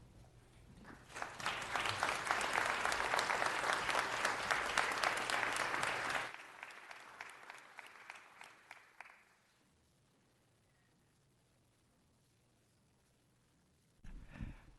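In a city council chamber, the crowd breaks into loud, sustained clapping that builds, holds for several seconds, then thins into scattered claps and falls silent before a brief noise near the end.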